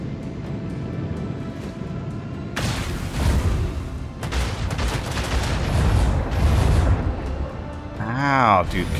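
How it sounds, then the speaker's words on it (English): Explosions and cannon fire in the video game Warhammer 40K: Rogue Trader: repeated heavy booms and blasts in quick succession over a continuous battle din, ending in a swooping electronic effect. "I take explosion damage."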